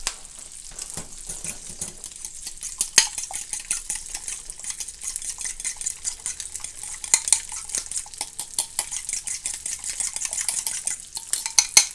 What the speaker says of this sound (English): And then we just mix it.